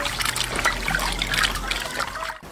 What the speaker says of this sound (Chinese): 先洗一番菜。